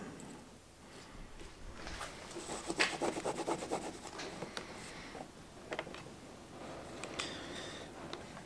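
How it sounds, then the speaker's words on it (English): A blade trims excess material around an LED tail light on a Ford Ranger Raptor, giving close, soft rubbing and rasping strokes in quick irregular bursts, with a busier run of short scraping cuts in the middle. "I'll just go around now and just trim this up a bit."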